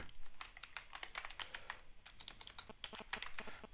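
Steady typing on a computer keyboard during HTML coding, a quick, close run of light key clicks with no talk over it.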